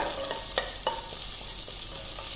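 Mustard seeds spluttering in hot oil, with curry leaves about to go in: sharp scattered pops and crackles over a steady, fairly close sizzle, no voices.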